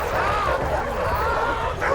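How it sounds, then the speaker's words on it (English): A dog barks and yips nearby amid a dense, busy background of other sound. "She hears a dog barking nearby"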